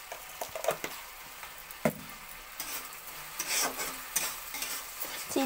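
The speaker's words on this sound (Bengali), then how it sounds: "চিনিটা দিয়ে আবার নাড়াচাড়া করে নিতে হবে।" Tomato chutney with freshly added sugar is stirred in a pan, with soft sizzling under irregular scraping and tapping strokes of a spoon, fairly quiet and close, with no talking.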